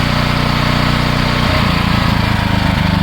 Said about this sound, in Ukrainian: Покажу вам ще, як він працює в половину потужності.